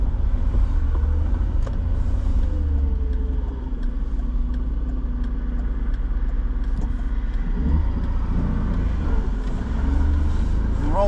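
Car tires spinning on an icy road while climbing toward dry pavement, with a steady loud engine rumble and tire whir throughout, close and continuous.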